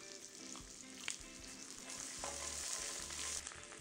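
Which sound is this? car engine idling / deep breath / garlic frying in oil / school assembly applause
garlic frying in oil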